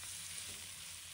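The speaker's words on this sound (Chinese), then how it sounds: "肉丝与芹菜在锅中重逢，再次翻炒，让它们充分交融" Pork strips and celery being stir-fried together in a wok, a steady, dense hiss of sizzling oil that fills the whole moment, loud and continuous with no talk.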